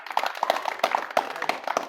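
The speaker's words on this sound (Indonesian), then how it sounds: "Oke, terima kasih. Tepuk tangan dulu." A small class claps in appreciation of a student's answer, a quiet scatter of separate hand claps, irregular and fairly close, with no talking over them.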